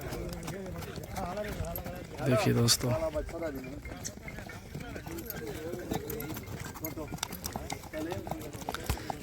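Horses' hooves clip-clop at a rewal chal horse race event, a steady run of hoofbeats under someone talking almost the whole time, with one louder burst of activity partway through.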